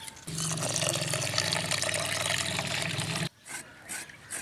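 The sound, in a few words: water poured over rice for soaking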